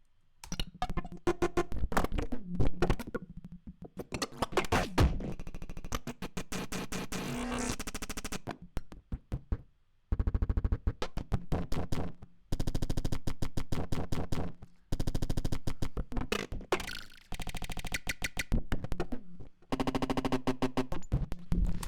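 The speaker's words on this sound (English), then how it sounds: "every time the notes is triggered, every time the sample starts from a different point." In Ableton Live, a sampled sound is retriggered in choppy rhythmic bursts, each note starting at a randomized spot so the texture shifts from hit to hit, separated by brief silences.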